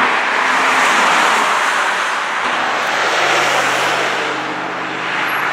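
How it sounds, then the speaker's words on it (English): A car spins its tires in second gear, a loud continuous roar of engine and tire noise that swells and slowly eases off, with no talking. "Let's spin the tires in second gear."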